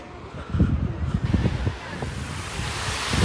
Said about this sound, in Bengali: একটু পরে পরে হচ্ছে ঢেউটা চলে আসতেছে আমাদের কাছে